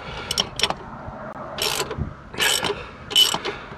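A socket ratchet turns a bolt on a Ford Fiesta wishbone, using 13 and 15 mm sockets. Close, rapid clicking comes in several short bursts with brief pauses between.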